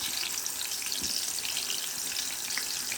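Tilapia fish pieces frying in hot oil give a steady, dense, close sizzle that runs without a break, with a faint tap of the fish or utensil near the start.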